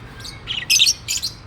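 A pet bird kept for breeding gives a few quick, high chirps in short bursts, clear and close against a quiet background.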